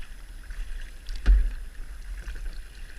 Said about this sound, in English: I need to get back to paddling